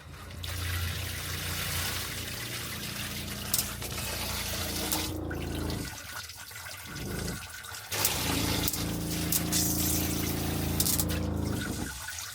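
Hot water runs through an RV shower head fitted with a filter, a steady close hiss of spray that cuts out briefly twice, around the middle and again shortly after, then resumes just as strongly.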